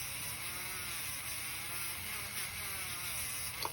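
A handheld power polishing tool runs steadily through a final polishing pass, a continuous motorized whir held at an even pitch and quite faint, ending with a small clatter near the end.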